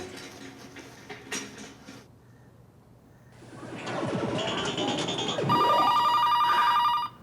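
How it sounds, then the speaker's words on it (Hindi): A telephone rings in a police-station comedy scene, a bright electronic ringing that starts partway through and grows loud over rustling and whooshing effects, with no talking. "आ गया उस वाहियात का फोन फिर से।"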